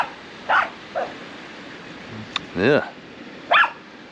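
A dog barks somewhere in the background at a beach fishing spot on Blue Anchor Bay, a few separate short barks spaced apart, with a brief word spoken by a person.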